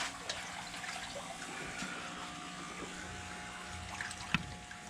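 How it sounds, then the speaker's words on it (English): Water trickles and gurgles steadily as a Marineland Penguin 350 hang-on-back aquarium filter fills up, a soft continuous flow with one brief louder splash near the end. "You see how much water that this filter in the back is taking to fill up."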